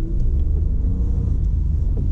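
A Renault Taliant three-cylinder engine at high revs gives a steady, low, growling drone heard from inside the moving car, continuous and fairly loud, with no talk.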